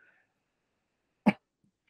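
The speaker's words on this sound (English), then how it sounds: "hopefully they can edit that cough there out." One short, sharp cough breaks an otherwise quiet pause, close to the microphone.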